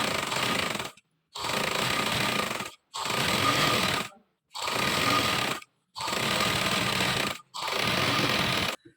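A sewing machine stitches a farshi shalwar in six steady, loud bursts of rapid mechanical whirring, separated by short silent pauses.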